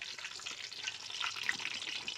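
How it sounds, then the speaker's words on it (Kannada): Green chillies fry in hot oil, giving a soft, continuous hissy sizzle at low volume with no voices, steady throughout. "ಇವಾಗ ಹಸಿಮೆಣ್ಸಿನ್ಕಾಯಿ ಹಾಕಿದ್ದೀನಿ, ಸ್ವಲ್ಪ ಫ್ರೈ ಆಗಲಿ"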